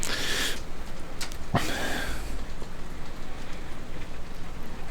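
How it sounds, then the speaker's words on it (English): Heavy rain pours steadily outdoors as a constant dense hiss, with a few brief brighter splashes near the start and no voices. "It's now pouring with rain here"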